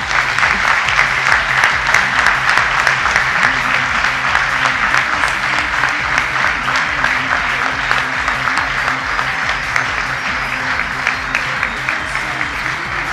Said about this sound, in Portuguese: Uma grande salva de palmas para a equipa vencedora da 31ª edição do Global Management Challenge